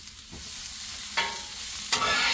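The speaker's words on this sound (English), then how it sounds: "You're gonna brown your onions. Let them brown" Onions browning in oil on a Blackstone griddle, giving a continuous close sizzle broken by two sharper scraping bursts.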